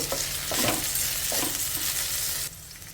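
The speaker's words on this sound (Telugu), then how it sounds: "చూడండి బెండకాయ ముక్కలు వేగాయి, బాగా పొడిగా వచ్చాయండి, జిగురు లేకుండా" Okra pieces sizzle steadily in a hot pan as a utensil stirs them in a few scraping bursts, close and fairly loud, before the frying drops quieter near the end.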